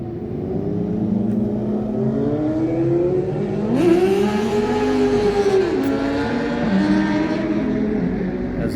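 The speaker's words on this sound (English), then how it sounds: "As those motorbikes go by," Motorbikes roaring past along a street lined with bars, engines rising and falling as they go by, loud and close with no talking.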